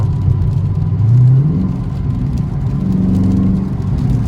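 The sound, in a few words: 530hp Dodge Scat Pack car driving in rain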